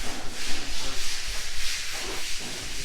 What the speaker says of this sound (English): Mr. Henry's busy doing some more sanding